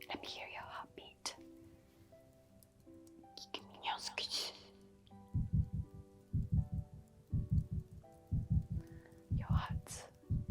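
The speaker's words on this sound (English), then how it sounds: "Let me hear your heartbeat." A steady, soft heartbeat thumps in paired beats at close range after a whispered opening, with faint whispering returning briefly over the rhythm in a quiet intimate setting.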